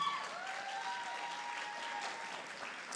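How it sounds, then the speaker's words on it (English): Applause at a secondary school graduation ceremony, a steady, fairly distant round of clapping from the assembled crowd, heard alone with a faint sustained tone underneath. "Let us give a warm round of applause to Miss Aaliyah Thomas"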